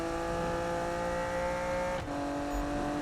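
A Fox Body car drives in Need for Speed (2015), its engine holding a steady droning whine with a quick shift in pitch partway through, loud and close with no talking.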